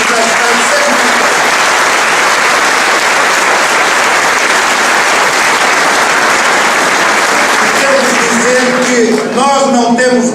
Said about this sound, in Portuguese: Um aplauso para ele, o Sr. Secretário de Estado.